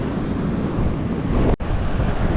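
Strong wind buffets the microphone over rough, stormy sea surf on a Baltic beach, a steady loud roar of waves and gusts with one brief dropout.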